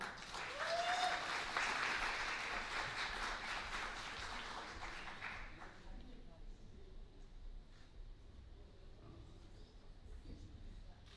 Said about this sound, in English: please give a big round of applause to Dr. Rudina